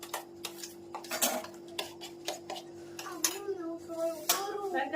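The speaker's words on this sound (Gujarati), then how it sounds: "દાળનો વઘાર ચાલુ છે." Spoon stirring dal tempering in a metal pot in a home kitchen, giving clinking scrapes and clatters in an irregular rhythm, close and moderately loud, with a steady hum underneath.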